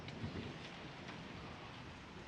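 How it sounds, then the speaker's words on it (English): Steady rain falling outdoors on a hot day, a continuous soft wash of drops with a low rumble underneath, moderately loud and with no voices. "Got a little rain rolling."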